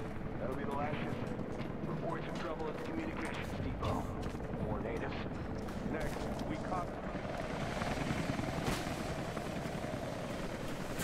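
A huge helicopter in Rise of the Tomb Raider drones with a steady rotor rumble and mechanical thumping, mixed with bursts of game gunfire and effects, under someone talking throughout.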